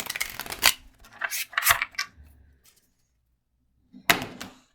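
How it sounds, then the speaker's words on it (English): Slick, slippery new tarot cards with a velvety feel being shuffled by hand, giving a few close bursts of riffling and flicking, then a pause and one more short shuffle burst. "Let me shuffle one more time."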